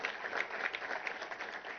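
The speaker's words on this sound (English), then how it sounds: "A round of applause as appreciation" Sustained audience applause at a defence conference, steady dense clapping from a crowd with no gaps across the short stretch.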